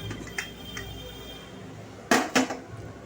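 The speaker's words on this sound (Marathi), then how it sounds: "आता आपण कुकरचं झाकण खोलूया." A pressure cooker lid is opened in a home kitchen after cooking liver masala, with two sharp metallic clanks near the end over a quiet background with faint earlier clinks.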